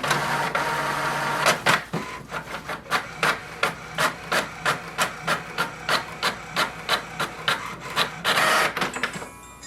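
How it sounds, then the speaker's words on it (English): An HP ENVY 6420e printer prints a Wi-Fi Direct page: a brief whir, then a long run of rhythmic mechanical chugs from the paper feed, about two per second, ending in a final rushing push as the sheet exits, close and alone. "It will send a command for the printer to print Wi-Fi direct page."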